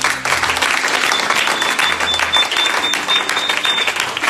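A church congregation claps and applauds steadily throughout, a dense, loud wash of hands with no speech over it.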